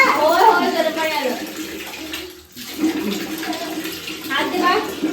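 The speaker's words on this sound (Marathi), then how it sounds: "होय गरम पाणी आलं" Hot water gushes steadily from a tap for a child's bath, a loud close hiss that runs throughout while a child and an adult talk over it.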